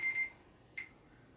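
A kitchen oven timer alarm beeps during birthday cake baking: two short, steady beeps close together, then a lone third beep after a pause, fairly quiet against low room noise.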